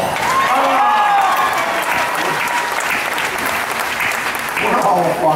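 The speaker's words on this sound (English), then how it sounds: "We're all applauding that" Audience applause at a fan event with Star Wars actors, steady crowd clapping with cheers and a few voices rising above it throughout.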